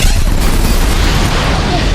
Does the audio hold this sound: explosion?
yes